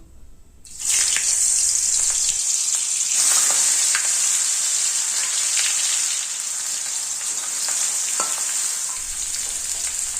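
Young jackfruit pieces sizzle loudly as they drop into hot mustard oil in a wok on the stove, a steady bright crackle that continues alone for about ten seconds after a quiet start.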